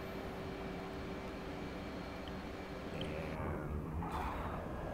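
An F/A-18C jet lifting off in a flight simulator game, a steady faint engine roar and whine holding level throughout with no voices.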